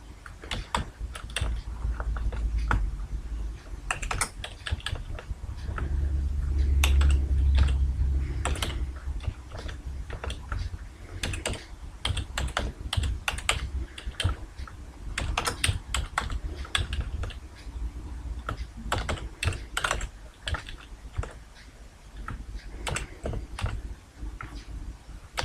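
Steady typing on a computer keyboard, rapid irregular key clicks continuing throughout at close range with no voices.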